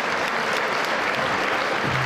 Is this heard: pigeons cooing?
no